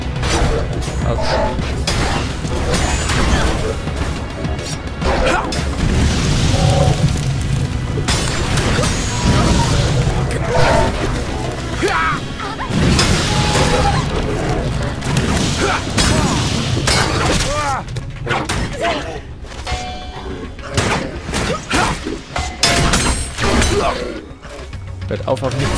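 Enemy gunfire and crashing impacts in the video game Elex, a dense, loud barrage of shattering cracks and mechanical clatter, with a voice talking over it.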